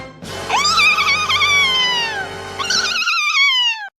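A pet house cat gives two long, loud, drawn-out meows close by, the first sliding down over about two seconds and the second shorter after a brief gap, with no talking.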